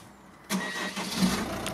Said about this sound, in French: Là, je vais allumer le moteur de voiture.